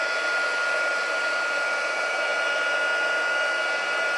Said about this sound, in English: so hit it with our heat gun again.